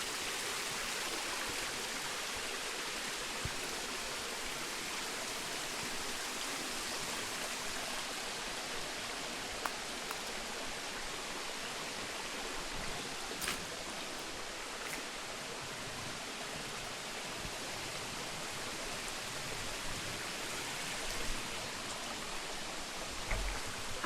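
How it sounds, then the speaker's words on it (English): A flowing stream along a hiking trail in Devil's Den State Park, Arkansas, a steady soft broadband rush of water that holds even and fairly quiet, with a few faint clicks, no talking. "I can't pass flowing water without dipping my face in it."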